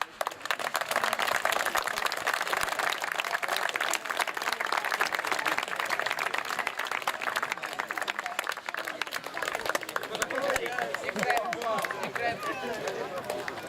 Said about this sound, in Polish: Brawa dla chłopaków, jeszcze